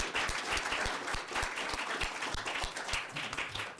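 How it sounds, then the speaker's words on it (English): An audience at an expert panel discussion on new media after Hurricane Sandy gives a round of applause, a close, full burst of many clapping hands sustained for the whole stretch. "Please join me in giving them a round of applause and thanking them for coming down."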